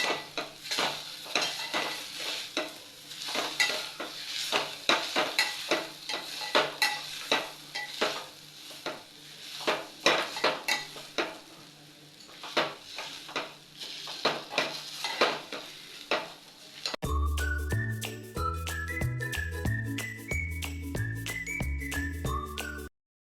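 Grated sweet potato is roasted in a pan for sweet potato kheer, with repeated scraping spatula strokes against the metal over a soft sizzle, before music takes over at the end.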